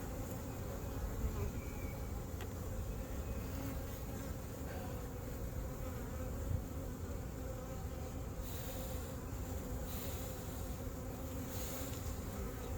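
Honey bees buzz steadily during a March beehive inspection, a dense, continuous hum from many insects close by that fills the whole stretch without pause.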